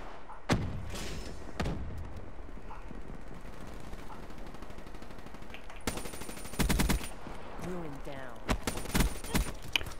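Rapid automatic gunfire from the Gorgon in Black Ops 3 rattles out in two dense bursts near the middle and end, loud and close, mixed with scattered game effects and occasional talk.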